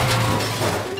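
Cartoon toy car crash in a children's animation as a car runs a stop sign, a loud burst of shattering and smashing with a crashing rumble, brief and alone without voices.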